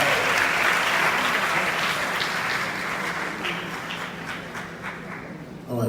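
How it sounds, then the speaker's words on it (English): An audience claps hands steadily for several seconds at an evening gathering, a dense continuous wash of applause that slowly tapers, with a brief voice cutting in at the end. "Let's clap our hands."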